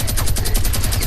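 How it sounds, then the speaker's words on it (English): A minigun in a shooter game fires a loud, rapid, continuous burst of closely spaced shots, dense and unbroken from start to finish. "I'm shooting with my gun!"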